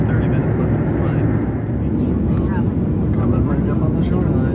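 Steady, loud roar of airplane cabin noise during a flight over the ocean, a continuous broadband rush with faint muffled voices underneath.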